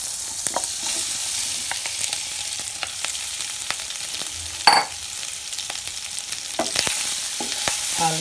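Pork frying in a pan with ginger and garlic gives off a steady, close sizzle, broken by a single louder clank partway through and light scattered stirring taps.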